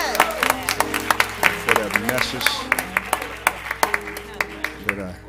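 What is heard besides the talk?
church congregation applauding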